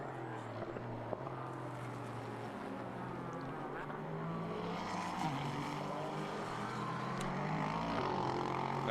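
GT race cars racing at Suzuka during the Japan Cup, engine drones rising and falling in pitch as the cars pass, heard at a distance under a steady broad wash of background noise.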